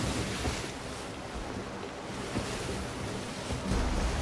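Steady wind rushing past a sailboat circling an island, with a constant broad roar of air and water and a slight swell near the end, no voices.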